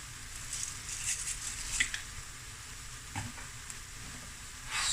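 Chicken mince sizzles and hisses steadily in a pan, with scraping stir strokes and brief clinks from a utensil against the metal, close and fairly quiet with no talk.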